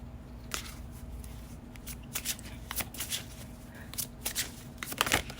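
Tarot cards being shuffled by hand up close: soft, steady papery riffling with scattered crisp snaps over a faint low hum, no talking.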